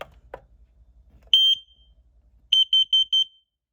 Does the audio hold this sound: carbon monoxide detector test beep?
yes